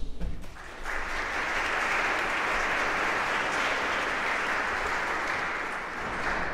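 Sustained applause from a concert audience fills the hall, a dense, even clatter of many hands that swells quickly after a short pause and holds steady throughout.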